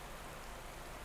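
Steady, dense rain hiss from the Pro Cycling Manager cycling game, a broadband wash of drops at an even level without pauses, heard alone.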